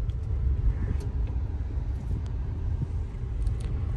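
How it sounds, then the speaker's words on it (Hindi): A car creeping forward slowly in second gear makes a steady, low engine and road rumble with some wind buffeting on the microphone. "अब सेकंड गियर इस साइड पे करके ऐसा आगे देखिए, धीरे धीरे चलिए, रेस दीजिए धीरे धीरे चलाइए।"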